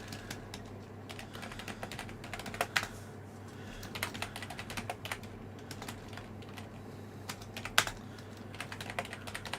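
Someone typing on a computer keyboard, quiet irregular clicks and taps over a low steady hum, with occasional louder key strikes.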